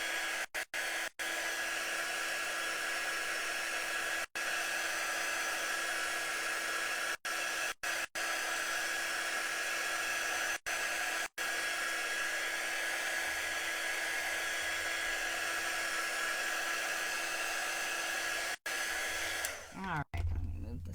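A handheld hair dryer blows steadily on a chalk craft project for bottle brush tree decorations, a loud continuous whine and rush of air running alone for about twenty seconds before cutting off at the end.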